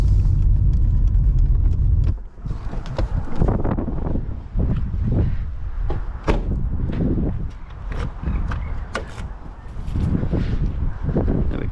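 A Mercedes 190E car drives along with a steady road rumble and wind buffeting on the microphone, recorded from inside or close by, punctuated by bumps and rattles.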